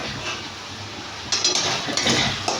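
A metal lid clanks onto a cooking pot of vegetables being boiled in a home kitchen, giving several close, bright clinks and rattles in quick succession after a quieter lead-in.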